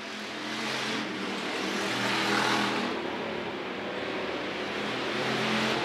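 A race car engine roars steadily at El Paso County Raceway as the leader cruises down the back straight. It is a loud, continuous, broadband drone that swells a little in the middle.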